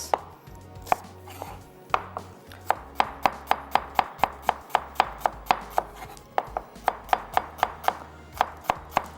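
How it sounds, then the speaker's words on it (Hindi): Two medium onions are sliced with a knife on a board, a quick run of about two dozen crisp, close knife taps in a steady, slightly uneven rhythm, with no talking. "दो अदद दरमियानी साइज़ की प्याज है मेरे पास, इसको करेंगे स्लाइस।"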